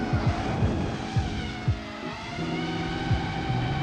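An FPV drone's motors rev up hard during a roll spin, giving a loud, rising and falling buzzing whine with repeated quick pitch sweeps and no talking.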